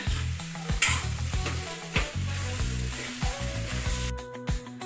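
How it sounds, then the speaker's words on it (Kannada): Chicken pepper dry being stirred in a pan with garam masala and chili powder, a spoon scraping and knocking in irregular strokes over a steady sizzle, close and fairly loud, with no one talking. "ಸ್ವಲ್ಪ ಗರಂ ಮಸಾಲ ಸ್ವಲ್ಪ ಅಚ್ಚ ಖಾರದ ಪುಡಿ ಎಲ್ಲ ಮಿಕ್ಸ್ ಮಾಡೋಣ ಈಗ"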